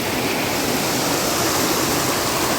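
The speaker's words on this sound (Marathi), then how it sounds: "छोटी नदी आमची ही छोटीवाली आहे" A small river in the Konkan region flows steadily, a dense continuous rush of water close by with no speech over it.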